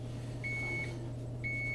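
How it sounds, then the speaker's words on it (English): An oven timer beeps twice in long, sustained electronic tones about a second apart, clear but modest in level over a low steady kitchen hum. "you can hear there's the beep, beep, beep going"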